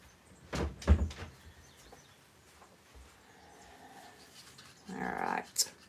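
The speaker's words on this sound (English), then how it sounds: "I'm going to shut my door" A room door is pushed shut with a couple of solid knocks and thuds near the start, followed by quiet room noise and a faint rattle near the end.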